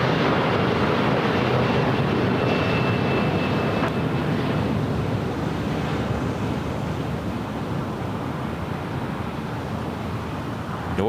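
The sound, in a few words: Key Lime Air aircraft arriving at LAX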